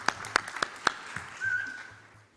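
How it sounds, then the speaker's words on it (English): A handful of sparse, separate handclaps from a small audience greeting pitch presenter Thomas at a Malta startup event, four or five sharp claps in the first second before a faint lingering tone and room hush. "Can we have a round of applause, please,"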